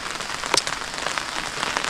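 Rain falling outside in the remote countryside of Yunnan, a steady patter of drops striking a nearby surface with a few sharper taps, heard alone without speech.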